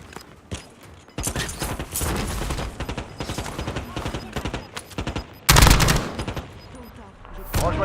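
Rapid bursts of automatic gunfire and single shots in Call of Duty Warzone Resurgence, dense and loud, with a heavy blast-like burst near the end, mixed with game sounds and brief voice chatter.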